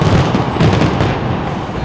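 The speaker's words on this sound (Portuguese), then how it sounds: "onde viram um show de fogos na London Eye" New Year fireworks burst over the London Eye beside the river Thames, heard as a dense, continuous rumble of crackling bangs and booms at a distance, with no gaps between them.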